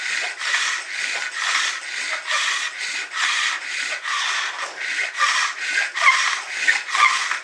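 A flint tool shaves wood in rhythmic back-and-forth strokes, about two per second. Each rasping scrape is close and crisp, with brief gaps between them, and no voices.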